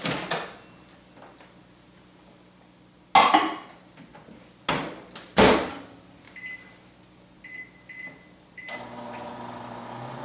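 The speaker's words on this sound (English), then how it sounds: "And then to the microwave." A microwave door clunks shut and keypad beeps sound, followed by clicks and the low steady hum of the oven starting to run.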